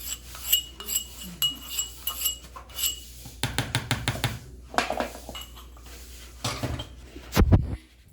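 Pounded garlic paste going into a cooking pot, heard as a run of clinks and scrapes of a metal spoon against the pot, some quick and rhythmic, ending with a louder knock.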